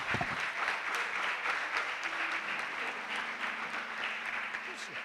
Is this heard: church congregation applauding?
yes